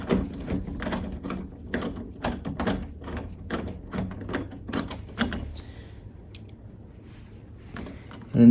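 Hand screwdriver turning screws into a doorknob on a new door, giving a quick, rhythmic run of close ratcheting clicks that stops partway through, followed by near silence.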